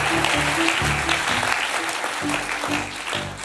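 A church congregation claps and applauds, a dense steady wash of hand claps with a sung or sustained voice tone running underneath.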